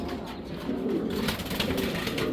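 Koopman bloodline black checker pigeon pair cooing close by, soft repeated low coos over a quiet background.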